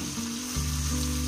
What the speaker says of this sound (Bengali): এবার এটাকে নেড়ে নেড়ে একটু কষিয়ে নিব মশলাটাকে